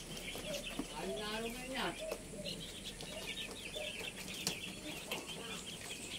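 Chicks and chickens on a chicken farm: soft peeping and clucking with occasional wing flaps amid a busy barn background, partly under someone talking.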